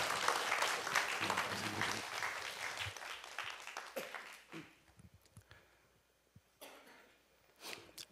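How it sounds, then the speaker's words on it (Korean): An audience at a live Korean stage performance gives the performer encouraging applause, loud at first and then tapering off, mixed with scattered coughs and throat clearing as the hall quiets. "좀 힘내시라고 우리 저 격려 박수 부탁드리겠습니다"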